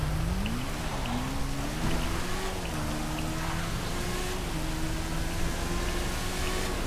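Motorbike in GTA 5 revving and pulling away, its engine note climbing and shifting steadily through the clip under a constant hiss of rain-like noise.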